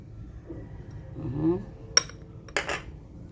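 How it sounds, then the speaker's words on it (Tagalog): Egg being stirred into minced pork in a bowl, with a soft mushy churning followed by two sharp clinks of a utensil against the bowl, close up. "Haluin nyo lang yung itlog para manuot-nuot sa minced pork."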